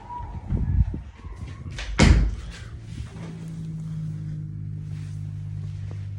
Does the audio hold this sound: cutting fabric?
no